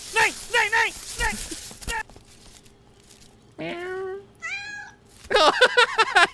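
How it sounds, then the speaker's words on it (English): A cat meows twice in a scene from the film Bhool Bhulaiyaa, clear rising-falling cries in quick succession, set between stretches of speaking voices before and after. "Meow, and the cat meows."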